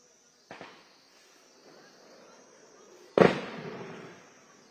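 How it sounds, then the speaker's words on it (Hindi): Two sharp gunshot-like cracks ring out in the distance during an army encounter operation in Anantnag, one faint early report and a louder one later, each trailing into a long echo over a quiet background. "ये देखिए फायरिंग की आवाज।"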